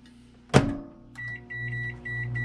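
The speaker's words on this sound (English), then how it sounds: "I'm going to throw that in the microwave for about 3 minutes," A microwave oven heating fishing bait plastic starts up with a loud door thunk, then settles into a steady close electric hum with faint periodic tonal whirring.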